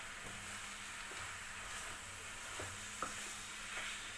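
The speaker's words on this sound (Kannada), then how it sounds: "ಇದನ್ನು ಈಗ ಚೆನ್ನಾಗಿ ಮಿಕ್ಸ್ ಮಾಡ್ಕೊಳ್ಳೋಣ" Crumbled roti upma is stirred in a pan over a low gas flame, making a gentle continuous sizzle with soft scraping and stirring strokes. The sound is close and fairly quiet, with no speech.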